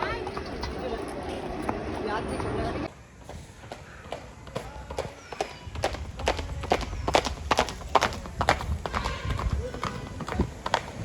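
Horse hooves clip-clop in a steady walking rhythm, close by, during a horse ride at Mount Abu, with people talking over the hoofbeats.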